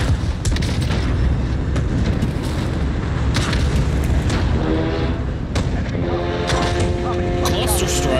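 Cluster strike explosions rumble and boom almost without pause in Call of Duty Vanguard, a heavy, dense barrage that stays loud throughout, with a player talking over it.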